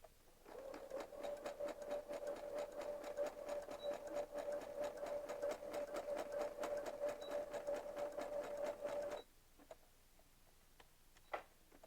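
A domestic sewing machine runs a zigzag stitch in one steady, close mechanical whirr with a fast ticking rhythm for about nine seconds, then stops, leaving quiet room noise and a faint click.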